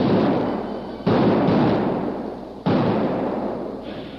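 Blasting powder charges go off as a radio drama effect, three heavy explosions each followed by a deep, rolling rumble that slowly fades, the second coming about a second after the first and the third about one and a half seconds later.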